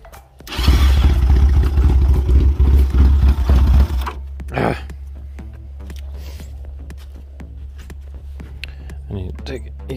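A Chinese 250cc ATV, not run in about ten years, roars loudly while its throttle is opened, then drops to a steady low idle. Someone talks over the idling engine.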